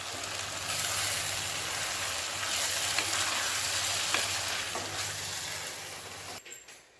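Dried fish thokku fries and sizzles steadily in oil, with a few soft scrapes of stirring through the hiss until it cuts off abruptly near the end; no one speaks.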